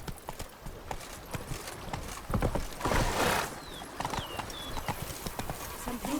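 Roach, Geralt's horse in The Witcher 3: Wild Hunt, gallops with quick, rhythmic clip-clopping hoofbeats up close, joined by a brief whinny and swishing movement.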